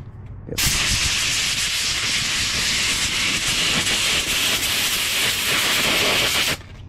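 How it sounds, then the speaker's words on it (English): Compressed air blasts through a Dixie Chopper mower air filter in one loud, continuous hiss that starts abruptly and cuts off after about six seconds. "I'm just going to blow this filter off, blow it from the inside out."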